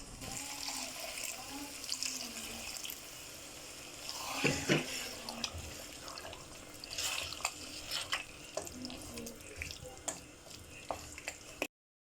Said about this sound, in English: Add in the water to make the stew.